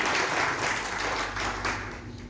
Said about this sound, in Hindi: आप ताली बजा दीजिए